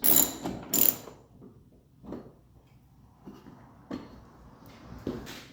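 Ratchet wrench working a 13 mm bolt on a 1984 Honda GL1200 motorcycle, giving short bursts of clicking ratchet strokes separated by pauses, close and fairly quiet.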